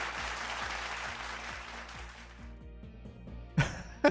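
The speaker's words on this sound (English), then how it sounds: "A round of applause, everyone." Applause fades out over a couple of seconds, with a steady rhythmic beat underneath, before a short sharp noise near the end.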